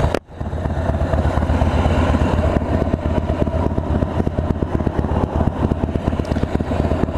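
A Harley-Davidson Road King Special with a 103 engine rumbles steadily while being ridden. The loud, continuous low V-twin drone stays close and carries no talk.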